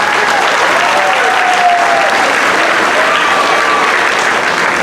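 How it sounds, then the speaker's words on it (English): An audience at a 2019 high school graduation ceremony gives loud, sustained applause, a dense and continuous roar of many hands that holds steady throughout, with no voices over it. "Please give him a huge round of applause."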